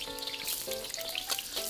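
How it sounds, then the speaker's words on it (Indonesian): Cut pieces of eggplant frying briefly in hot oil for terong balado, giving a steady close sizzle and crackle with faint stirring, no talking. "Terong dipotong-potong kayak gitu, kalian goreng sebentar."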